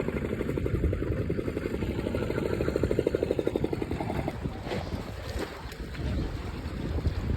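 A motorized fishing boat at sea drones with a steady rapid engine throb, loud and close, beneath wind buffeting the microphone, then fades into broader wind and water noise.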